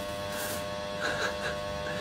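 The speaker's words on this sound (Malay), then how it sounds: "Apa bising? Bising kipas saya." A very old electric fan runs with a steady buzzing hum and a faint rattle, fairly close and continuous, its drone holding level throughout with a slight swell midway.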